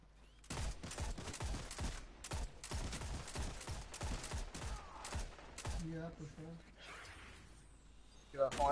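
Rapid weapon fire crackles in repeated sharp bursts during a Destiny 2 Trials match on PS4, then thins out as a voice briefly comes through.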